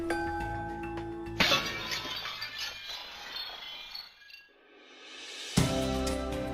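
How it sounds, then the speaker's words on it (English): A drinking glass driven by a steady tone at its resonance frequency; the sustained pure tone rises and then the glass bursts in a loud bright shatter, followed by a second crash and tinkling shards. "we can make the glass break up by finding the frequency that corresponds to the resonance frequency of this glass."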